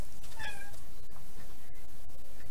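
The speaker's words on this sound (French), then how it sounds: "le chat, tu m'attends 2 secondes. Oui, j'ai le chat à côté." A cat gives one short meow near the start, heard indoors over a steady background hiss, followed by a couple of faint clicks.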